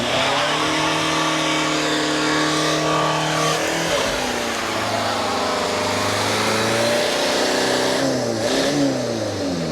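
A Volkswagen Caddy van engine revs hard and climbs in pitch, drops at a gear change, then builds again. The mid-pitched drone stays loud and continuous from inside the vehicle, with no talk.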